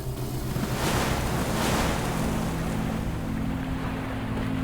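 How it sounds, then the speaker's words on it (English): Steady rushing and pouring of water flooding a bathroom in the video game Psychotic Bathtub, a continuous broad wash with a low droning tone running beneath it and no talking. "The rain of water has begun."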